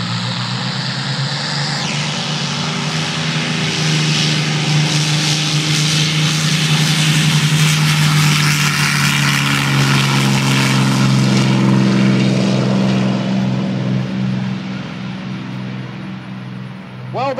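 A P-51 Mustang propeller plane roars loudly as it takes off and passes close by, its engine drone swelling and holding strong before slowly fading away.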